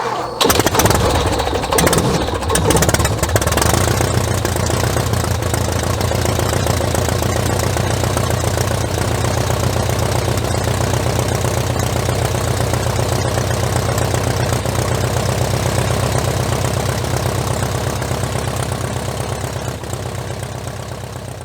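Loud and close, the engine of a Wittman Tailwind airplane cranks and fires, then settles into a steady, droning idle that holds for about twenty seconds before easing off slightly.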